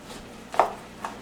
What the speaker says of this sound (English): And you can just cut them however you want.